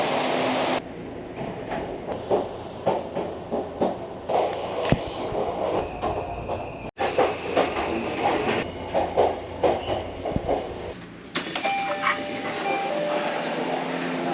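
An Odakyu Romancecar limited express rolls into Hakone-Yumoto station, its wheels giving a rhythmic rumble and clatter of rail joints with brief squeals and thuds as it slows.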